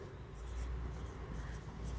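Marker or pen writing on a board during a chemistry lesson, a faint continuous scratchy stroke sound with light squeaks, close and soft over room hiss, without speech.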